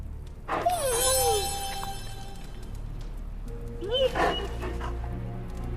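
Charlie, a hellhound dog in the video game Midnight Suns, gives two separate whining, yipping barks a few seconds apart. Each has a rising and falling pitch, over a low game background hum.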